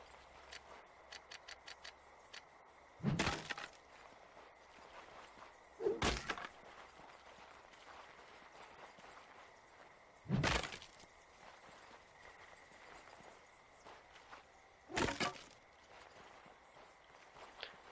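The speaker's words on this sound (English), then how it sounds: "I think I'm just smashing things to relieve frustration, frankly." Objects smashed in the video game Yonder: The Cloud Catcher Chronicles: four separate crashing hits spaced several seconds apart, each brief and fairly loud over quiet ambient background sound.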